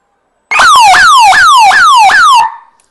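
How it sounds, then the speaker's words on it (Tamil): A solar electric fence's short-circuit alarm wails loudly in a rapid repeating upward sweep, five quick cycles of a piercing siren-like tone, then cuts off abruptly. "இப்போ ஷார்ட் பண்ணோடனே இந்த ஷார்ட் ஆச்சு அப்படின்னா இந்த அலாரம்ல உங்களுக்கு சவுண்டு கேட்கும்"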